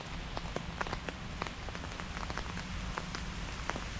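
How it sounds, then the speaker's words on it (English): Heavy rain pours down steadily around an umbrella in Switzerland, a dense continuous hiss with scattered sharper drops pattering close by, with no voices. "it's coming down really hard right now and I'm just getting soaked"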